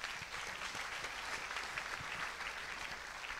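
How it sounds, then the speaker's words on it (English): A church congregation applauds steadily and fairly loudly, a dense, even patter of many hands that holds its level from start to finish with no voices over it. "Est-ce qu'on peut applaudir pour Jésus-Christ?"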